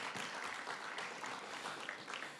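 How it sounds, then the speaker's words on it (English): Applause for the mayor at a Magic City Classic press announcement, a steady, fairly quiet wash of clapping from the audience that runs the whole time without breaks. "So please give him one more round of applause."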